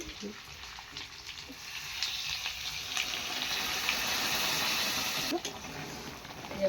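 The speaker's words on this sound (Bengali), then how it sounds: "আর এখন আমি গরম জল দেবো, এদিকে গরম জল করেছি, সেই গরম জলটা ওর মধ্যে দিয়ে দিব" Hot water poured into a pot of chicken curry, a steady gushing pour rising after two seconds and stopping near the end, fairly faint with kitchen clatter around it.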